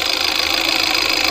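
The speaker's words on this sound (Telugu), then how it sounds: "ఇంజన్ నాయిస్ ఒకసారి మీరు గమనించవచ్చు." A car engine idling after decarbonization cleaning, recorded up close as a loud, steady mechanical hum with a faint ticking knock running through it.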